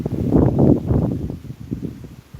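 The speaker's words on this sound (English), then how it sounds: "but it's just very windy." Gusty wind buffeting the microphone with low rumbling bursts, stronger at first and then easing, at a beehive on a warm day.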